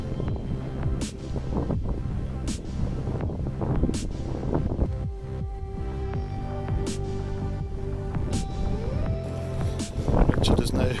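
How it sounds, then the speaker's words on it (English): Strong wind buffets the microphone continuously on an exposed hillside at a wind farm, with gusty rumbling throughout and a few sharp knocks. "It's cold in the wind up here."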